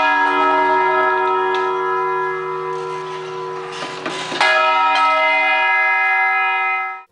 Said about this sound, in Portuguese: As igrejas têm um interessante e peculiar sistema de comunicação através dos sinos